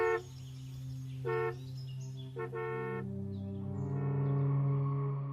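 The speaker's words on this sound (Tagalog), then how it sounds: "narinig ko na mula sa labas ang pamilyar na busina ng kotse ni River" Two or three short, flat car-horn honks sound close by, followed by a steadier tonal hum with faint chirps in the background.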